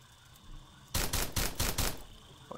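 Rapid automatic gunfire from the video game Starbound, heard as four close, loud bursts in quick succession after a quiet lead-in, with no talking over it.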